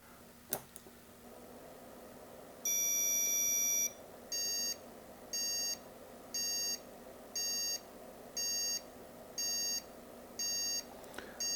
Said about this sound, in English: Well, that's a lot of beeps,